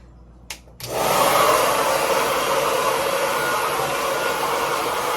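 A hair dryer clicks on after a brief silence and blows steadily and loudly for several seconds while heat is applied to hair during a styling treatment, with no talking.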